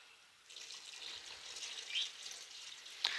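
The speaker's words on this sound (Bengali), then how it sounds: "এখন আমি এর মধ্যে দিয়ে দিব গরম পানি।" Hot water is poured onto rice fried in a pot for beef bhuna khichuri, giving a soft, continuous hissing pour at low volume that ends with a brief splash.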